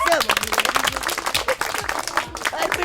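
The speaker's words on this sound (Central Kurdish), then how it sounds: "یەک چەپڵەی بەهێز بۆ یوسف" A crowd claps loudly and continuously for a joke told by Yousif, with a voice speaking over the applause.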